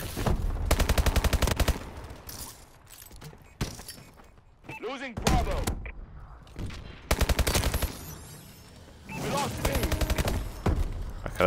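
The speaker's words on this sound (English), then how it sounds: "double kill with a submachine gun over the top there" Submachine gun fire in Call of Duty multiplayer: several loud, rapid bursts of automatic shots separated by short pauses, with thuds and other game sounds between, and a voice talking over parts of it.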